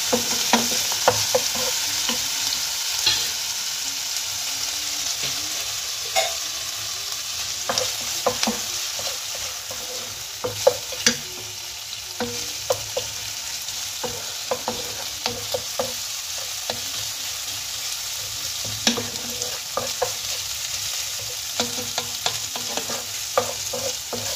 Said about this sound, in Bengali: এবার ভালোভাবে এর সঙ্গে ভেজে নেব, যাতে রসুন, আদা আর কাঁচা লঙ্কার ফ্লেভারটা ভালোভাবে মিশে যায়, একটু ভাজা হয়ে যায়।